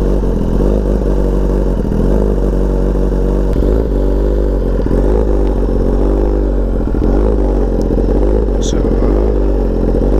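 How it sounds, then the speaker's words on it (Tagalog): Four-cylinder big bike engine, an upgrade from a two-cylinder NK400, idling while still cold with occasional revs: a loud, steady low mechanical drone with rhythmic pulsing throughout and brief rises in pitch, heard close up with no talking. "so yan na yung sound ng 4-cylinder"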